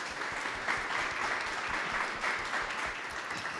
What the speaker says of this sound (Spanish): pido, antes de pasar al break, un gran aplauso